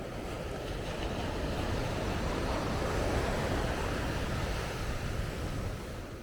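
Ocean waves on a clean San Diego beach with cold water, a continuous broad wash of surf roar, steady and fairly loud with some wind noise, no talking.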